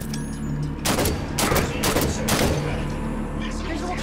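Bursts of gunfire crack out from a catwalk in Halo 5: Guardians, four or five sharp volleys in quick succession over a low hum, with a voice talking briefly.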